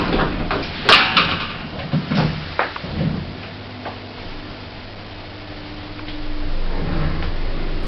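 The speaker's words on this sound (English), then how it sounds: "Doors open." Lift doors at Kings College Hospital slide open with a few clunks and a mechanical rumble, followed by a steady low hum and hiss inside the quiet lift car.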